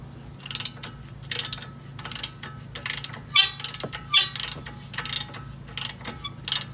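A ratchet wrench turns a nut while Moog struts are installed on a 2012 Dodge Grand Caravan, producing close, crisp bursts of rapid clicking in a steady back-and-forth rhythm, with no voices.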